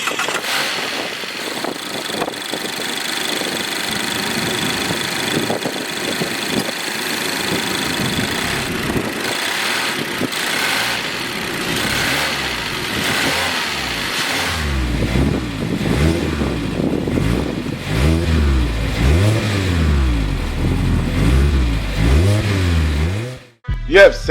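A 2021 Mazda MX-5 Miata with a 2.0-litre Skyactiv inline-four idles steadily, then revs repeatedly in rising and falling sweeps, loud and close, ending in an abrupt cut-off.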